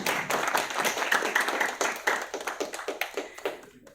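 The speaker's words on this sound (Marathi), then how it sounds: "अरे टाळ्या कमी पडतायत आहेत कमॉन" An audience at a Marathi film press conference claps in a brisk, close burst, with dense overlapping hand claps that swell and then thin out into scattered individual claps.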